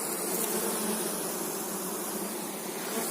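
A dense, steady buzz of many honeybees around a hive on a hot day fills the air, continuous and close, with no voices.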